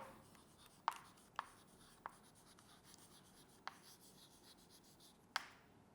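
A pen or chalk taps and scratches while writing, making a handful of separate sharp strokes spaced apart over a quiet background hum, close and fairly faint.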